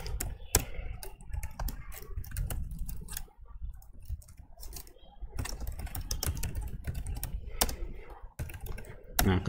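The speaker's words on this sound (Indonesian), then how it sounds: "Kemudian ketikkan lagi." Typing on a computer keyboard while writing a poem in Microsoft Word, bursts of quick close key clicks with pauses between, under a quiet room, with a voice speaking softly at times.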